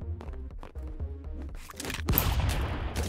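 Rapid bursts of cartoonish gunfire from the Stick Fight video game, a quick string of sharp pops followed by a louder noisy blast, fairly quiet overall.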